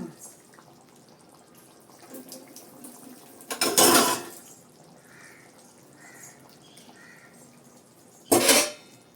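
Tap water gushes in two short bursts over ground coconut paste in a sink, with quiet clinks of a dish and drips between the bursts.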